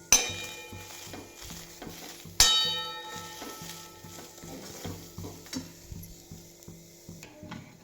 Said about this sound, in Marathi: आता ही शेंगा तेल टाकून परतून घेणार आहोत. चांगल्या खरपूस भाजू घेऊ.